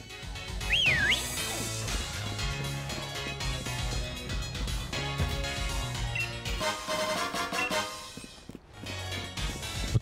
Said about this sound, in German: Mein Pikachu liebt es zu pfeifen und im Wasser zu planschen.